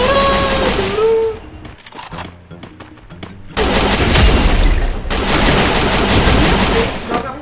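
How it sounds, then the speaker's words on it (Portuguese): Rapid gunfire in a video game match, bursts of repeated shots and impacts with dense game effects, loud throughout, starting after a brief pause and building into sustained firing. "Tiro, senhores."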